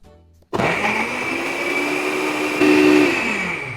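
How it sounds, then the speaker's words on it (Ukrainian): A NutriBullet Ultra blender roars to life after a brief pause and whirs loudly and steadily for a few seconds while mixing a strawberry, ice cream and milk milkshake. "Всі коктейлі буду збивати блендером NutriBullet Ultra."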